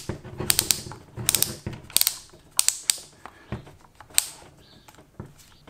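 A Greenworks cordless drill's clutch collar is turned, giving close, loud bursts of rapid ratcheting clicks in several quick runs separated by short pauses.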